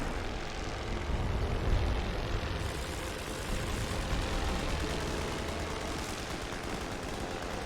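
Propeller fighter planes chase a recon plane in the World War I strategy game The Great War: Western Front, a dense, steady engine drone with scattered crackling bursts mixed in and no voices.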